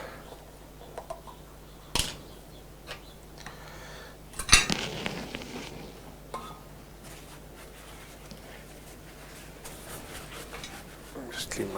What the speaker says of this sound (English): Just clean my knife. Get all the gesso off.